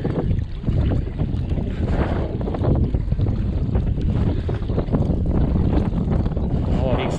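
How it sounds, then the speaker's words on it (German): A strong, constant headwind roars and buffets the microphone on a kayak trip along the Weser river, with light rain and a low rushing rumble underneath throughout. "Ja, ordentlich Gegenwind."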